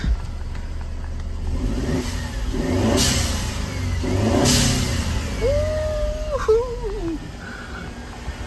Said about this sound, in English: Blow off valve on, man. Sound is amazing.